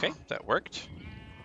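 Minecraft sheep bleating close by in several short wavering bursts, with a voice speaking briefly over and after the calls.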